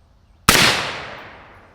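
A single suppressed gunshot from a 16-inch AR rifle fitted with a YHM R9 suppressor, fired into a dirt berm outdoors: one sharp, loud crack after a quiet lead-in, fading over about a second.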